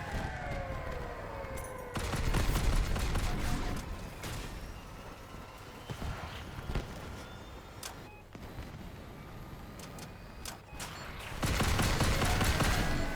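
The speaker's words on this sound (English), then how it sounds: "And I'm getting shot by everyone, it appears." Gunfire from combat vehicles in the video game Crossout, heard as repeated loud bursts of rapid shots and blasts separated by quieter stretches of engine and battle noise, with no talking.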